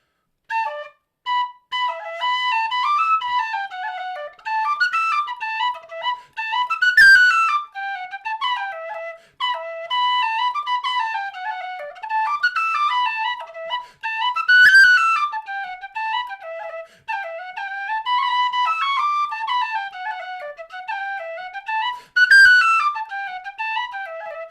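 A tin whistle plays a lively tune alone, notes crisply separated by tongued attacks, with quick ornamented runs, tight triplets and a few breaths between phrases.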